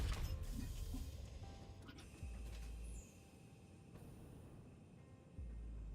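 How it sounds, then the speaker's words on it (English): Loading machinery on a train station in the factory-building video game Satisfactory clanks and ratchets over a steady low mechanical hum that steps up and down in level, with no talking. "Making a bunch of sounds like it's putting things onto the train."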